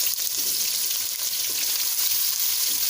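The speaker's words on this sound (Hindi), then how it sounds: "अब हम इसमें प्याज डाल देंगे।" Onions sizzling in hot oil in a pan with whole spices for chicken white korma, a steady close hiss lasting the whole time, alone with no talk.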